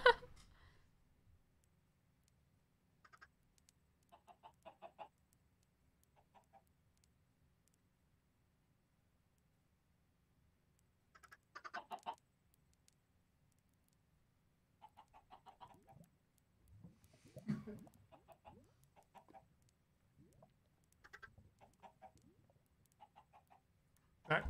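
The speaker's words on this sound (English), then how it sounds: "We got chickens." Chickens in the Minecraft video game cluck in short scattered bursts across a quiet stretch, faint and spread out, with soft voices talking between the calls.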